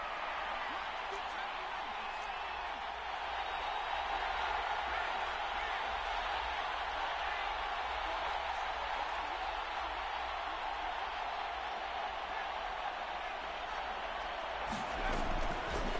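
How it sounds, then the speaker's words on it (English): Stadium crowd at a Packers vs Giants football game, a steady roaring wall of noise sustained throughout, swelling slightly near the end, with a commentator's voice over it. "This crowd turning up the decibel level."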